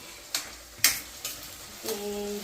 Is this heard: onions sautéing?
yes